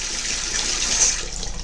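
Tap water running steadily into the tub of a Hoover 0519 washing machine, a continuous close hiss and splash of filling water heard alone.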